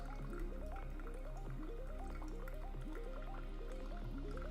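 Coffee drains through a NextLevel Pulsar brewer, faint quiet dripping and trickling in a repeating gurgling pattern, steady throughout with no voices.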